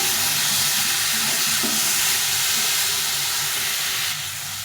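Raw mango pickle frying in oil in a pan, a steady close hiss and sizzle with faint stirring that drops slightly in level near the end, no voices.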